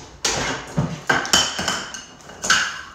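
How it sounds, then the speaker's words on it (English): Kitchenware clatters as a blender is pulled out, giving a run of sharp metallic clanks and clinks of pots, dishes and utensils close by, several distinct knocks spread over a few seconds with no talking. "we're getting out of the blender."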